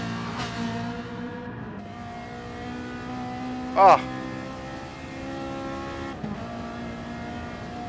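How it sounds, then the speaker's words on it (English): Ferrari race car engines in a racing game, a sustained mid-volume engine drone with pitch shifts and gear changes, a brief sharp exclamation from a voice partway through. "The sound of a Ferrari. So unique, so beautiful."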